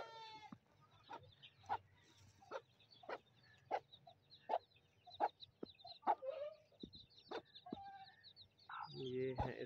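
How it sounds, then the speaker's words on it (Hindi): Chicks of a brown hen chirp in a steady series of high, sharp peeps, about one every half second, fairly close and clear against a quiet farmyard background, with a louder fowl call near the end. "ये हैं इसके रानी के चूजे"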